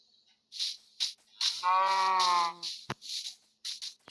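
A cow in the Minecraft video game lets out a single drawn-out moo amid short bursts of in-game hiss and rustle, clear and isolated against silence.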